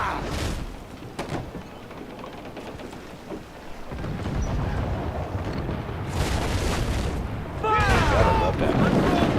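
Heavy ship cannons boom in an Assassin's Creed 4 naval battle, several deep blasts rumbling amid ongoing battle noise, with shouted voices over the fire.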